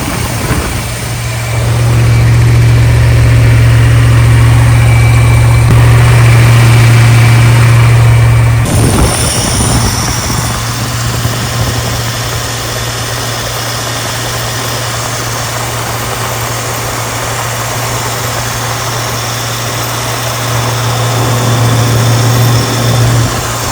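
A newly built engine for a 1964 Ford Galaxie runs on an engine run stand, loud and steady with a strong low drone, then drops to a quieter idle partway through before rising again near the end.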